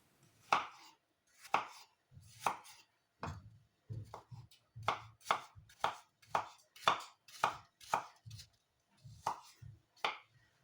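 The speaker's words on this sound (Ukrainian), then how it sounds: "нарізаю яблука на невеликі кубики" A knife chops peeled apples into small cubes on a board for a cinnamon apple pancake filling, about fifteen crisp, close knocks in an irregular rhythm with short pauses between them.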